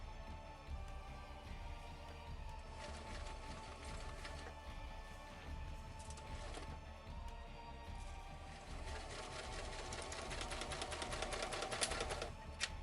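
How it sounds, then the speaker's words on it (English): A sewing machine stitching the back seam of a striped fabric garment closed, a soft continuous mechanical whir with rapid ticking needle strokes that grow busier toward the end, no one speaking. "I'm going to match all these stripes together, and I'm going to stitch it closed."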